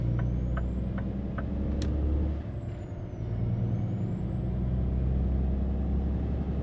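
A 2022 Kenworth truck with a 10-speed manual gearbox drives in American Truck Simulator, giving a steady, close engine drone with a long, thin high whine above it and a few brief air-brake hisses near the start.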